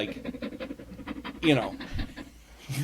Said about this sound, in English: That was a dog panting, by the way.